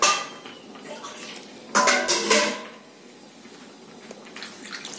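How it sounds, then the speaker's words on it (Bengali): Water splashes into a pot of chicken stew in a short, loud burst. Quieter clinks of the pot and utensils come before and after. "এবার আমি এর মধ্যে জলটা দিয়ে দেবো"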